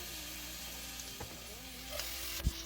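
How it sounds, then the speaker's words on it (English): Garlic, green chilies and ginger garlic paste fry in melted butter, giving a steady close sizzle with a few soft stirring clicks and no talking. "Fry it until it turns golden brown."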